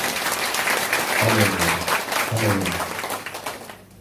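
A congregation at a New Year's watch night church service claps loudly and steadily, with a voice speaking over the applause in two short bursts.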